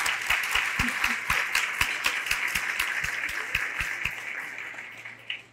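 A round of applause at a Distinguished Alumni Awards dinner as board members stand or wave, with distinct claps ringing out over a softer crowd patter that gradually thins toward the end.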